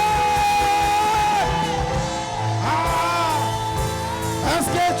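A church congregation cheers and shouts acclamations during worship, a dense crowd of overlapping whoops and yells that stays loud throughout, with raised voices and tonal singing or chanting mixed into the din.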